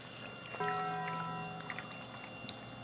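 Coolant sloshes and gurgles inside the water pump of a running 302 V8 engine, a soft liquid churn steady over low engine hum, with a faint tonal whine entering partway through.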